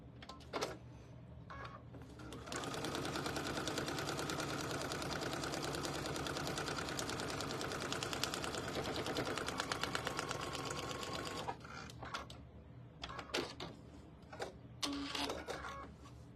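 A home sewing machine stitches a seam on a spooky-themed quilt sampler block, running steadily and close for about nine seconds after a few short starts, then stopping and giving brief stuttering bursts.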